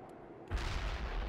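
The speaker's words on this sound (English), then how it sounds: "That's a lot of rockets." Rocket barrage in the real-time strategy game World in Conflict, set on a snowy battlefield: a brief quiet lead-in, then a sudden heavy low rumbling roar of massed launches and impacts that holds loud and steady.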